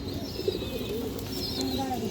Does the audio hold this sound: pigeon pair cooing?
yes